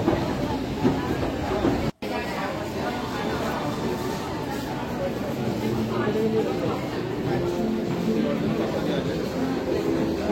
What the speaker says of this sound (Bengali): এসপ্ল্যানেড থেকে দক্ষিণেশ্বর যাওয়ার ট্রেন প্ল্যাটফর্মে এসে গেছে